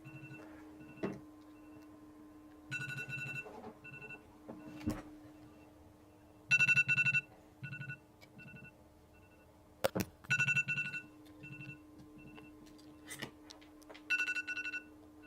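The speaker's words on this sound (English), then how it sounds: "an alarm was going off on my phone" A phone alarm goes off in repeated bursts, each a cluster of bright electronic tones. It is fairly quiet and close, with short gaps and a few faint clicks between the tone groups.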